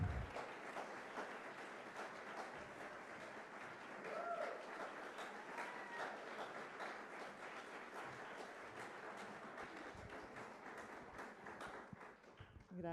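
An audience applauds steadily to welcome a doctor, Edna Benítez Laborde, onto the stage at an inaugural lecture, with sustained dense clapping throughout and a faint voice briefly audible beneath it.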